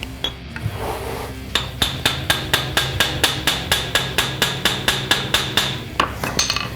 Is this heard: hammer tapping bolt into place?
yes